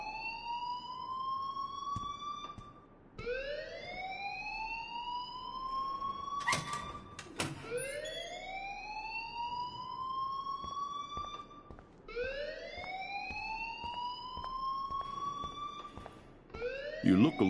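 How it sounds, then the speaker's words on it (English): Repeating electronic alarm in the video game Life is Strange, a rising wailing tone cycling roughly every three seconds, loud and steady with brief sharp clatters between cycles. "please turn off that alarm since that's your job"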